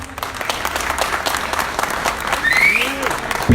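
Audience applause at a cup prize distribution ceremony, steady clapping from a crowd throughout with a voice speaking over it.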